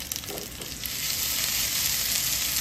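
Raw mango pieces fry in hot oil for methamba, giving a steady, close, even sizzle. Faint stirring touches are heard near the start.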